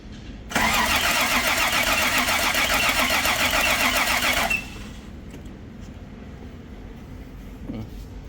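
A freshly rebuilt Toyota 5VZ engine cranks over on the starter during a compression test, a loud, even, rapid churning that runs about four seconds and then cuts off, leaving a quiet workshop hum.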